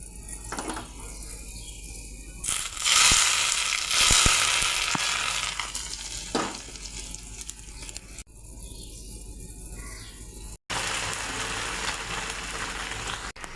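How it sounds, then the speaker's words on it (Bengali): Hot mustard oil tempered with bay leaf and nigella seeds is poured into a Malabar spinach curry, giving a loud burst of sizzling that lasts about two seconds and then fades into quieter kitchen noise. "সরষের তেল দিয়ে দেব, সামান্য মশলায় ফোড়ন করে নেব, তেজপাতা আর কালো জিরা। এই তেলটা আমি তরকারিতে ঢেলে দেব।"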